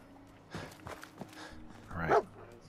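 Dogmeat, the German shepherd companion in Fallout 4, gives a few short barks and a yip in a quiet game scene, with soft footsteps between them.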